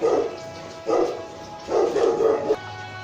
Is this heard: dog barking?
yes